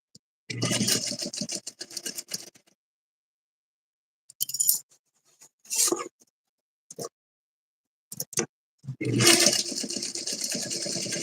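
A sewing machine stitches fabric along a 5/8 inch seam allowance, running in loud, steady bursts at the start and end with short stitching spurts and pauses between them.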